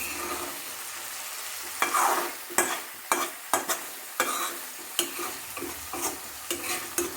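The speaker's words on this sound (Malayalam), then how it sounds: "നല്ലപോലെ ഇളക്കി കൊടുക്കുക." A spoon stirs chicken roast frying in a pan, giving repeated sharp scraping clinks at an irregular rhythm over a soft, steady sizzle, close and fairly loud, with no talking.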